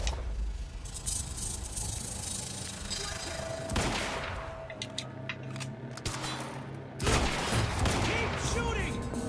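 Gunfire in the shooter game Quantum Break, bursts of rapid shots with rattling crackle that come and go in waves amid the game's battle noise, with a voice talking over it.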